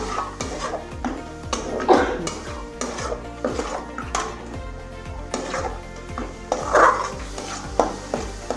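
Bitter gourd filling mixed with a few spoonfuls of yogurt being stirred in a pan, a close, busy rhythm of spoon scrapes and clanks against the metal over a light sizzle.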